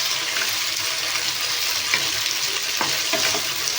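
Chicken pieces for chilli chicken fry in hot oil with a dense, steady sizzle, close and loud, broken by a few faint scrapes of stirring.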